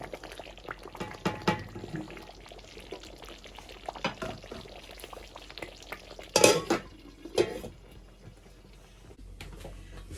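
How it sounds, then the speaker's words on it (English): A spoon stirs stew in a pot for Nigerian jollof rice, giving scattered scraping and clinking knocks with a few louder clatters partway through, all close and fairly soft. "So I'm gonna go ahead and stir."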